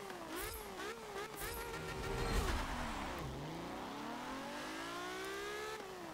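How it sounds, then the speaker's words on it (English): A loud racing car engine in Forza Motorsport 7 screams at high revs up to 9,000 RPM, pitch rising and falling as it shifts through gears and accelerates, with brief tire squeal. "So yeah, quite loud car."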